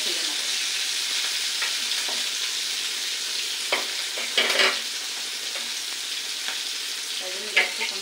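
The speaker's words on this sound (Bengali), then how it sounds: "চিংড়ি মাছটা ভাজি হয়ে গেছে" Shrimp frying in a pan over a gas flame, a continuous bright sizzle with occasional louder crackles and stirring scrapes, steady and close throughout.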